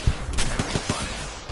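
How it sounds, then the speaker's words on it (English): Enemy gunfire in a video game, a rapid burst of several sharp shots cracking out in quick succession, close and loud, with no voices. "Bad boys are shooting at me."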